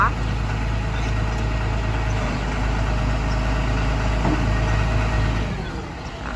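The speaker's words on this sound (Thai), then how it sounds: "คันนี้จะเป็นเครื่องยนต์อีซูซูนะคะ 6 สูบนะ จะเป็นตัว 6BG1 นะค" An Isuzu 6BG1 six-cylinder diesel engine idles on a Komatsu FD135T-6 13-ton forklift, a steady low rumble that holds close and even, then drops off near the end, with a voice talking over it.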